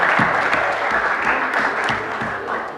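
Sustained audience applause at a youth parliament gathering, a dense, steady wash of many hands clapping that fills the whole stretch at an even, fairly loud level with no talk over it.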